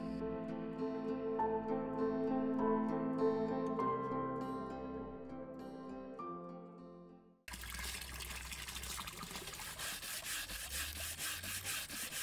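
A lacquer artwork gets its final polishing by hand, a steady rubbing and scrubbing friction with a wet, gritty texture, following a stretch of tonal background music, with no talking.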